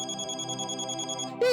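A telephone rings with a repeating electronic ringtone, an even tone pattern going for over a second before a voice briefly cuts in.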